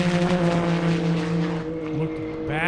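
A 2,000-horsepower Porsche race car screams down an airstrip, its engine a loud sustained high-pitched roar that shifts pitch as it passes, with a commentator talking over it.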